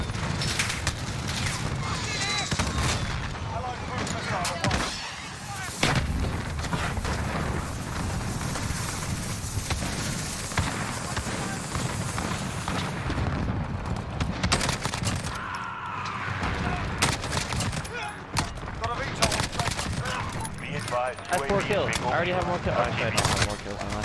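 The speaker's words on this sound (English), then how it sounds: "where am I getting shot from?" Gunfire fills a Modern Warfare match: dense, overlapping bursts and scattered shots run nearly nonstop, with a player talking over parts of the chaotic firefight.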